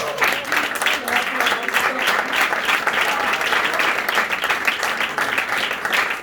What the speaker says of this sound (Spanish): Un aplauso para Paco.